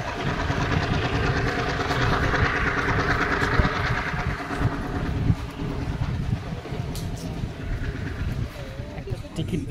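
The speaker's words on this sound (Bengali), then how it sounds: "এখন ট্রেন আসবে, ট্রেন মোস্টলি চলে এসছে, জাস্ট অন টাইম।" A train rolls into Dematagoda railway station in Sri Lanka, a loud steady rumble with rhythmic wheel clatter filling the platform, while people talk nearby throughout.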